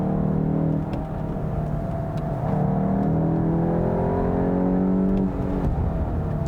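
A 2022 Volkswagen GTI hot hatch at full throttle, its engine note rising steadily in a loud, continuous drone with stepped pitch climbs through the gears, heard from inside the cabin with no talking.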